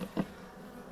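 Honeybees buzzing at a beehive in summer, a brief louder hum as one bee passes close, then a faint steady drone.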